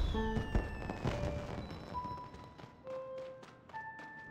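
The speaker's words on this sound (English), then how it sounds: "Fireworks in a building!" Fireworks set off inside a building in a video game, a quick run of pops, thuds and whistling tones going off in succession at close range, with no talking.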